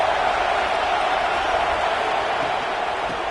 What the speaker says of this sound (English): Here comes second down, and this crowd is turning it up a notch.